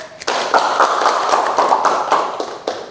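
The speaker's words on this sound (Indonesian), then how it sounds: "Tepuk tangan dulu buat kelompok 1." Applause for a student group at SMKN 1 Banyusari, a steady patter of many hands clapping at moderate volume for a few seconds, with faint voices underneath.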